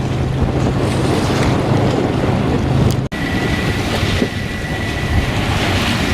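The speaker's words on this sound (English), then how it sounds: "motor sailing at the moment and doing the video" Sailboat motor sailing on the Sound of Mull in a nice breeze: a loud, continuous mix of wind buffeting the microphone, rushing water and a low engine drone, with a brief cut partway through.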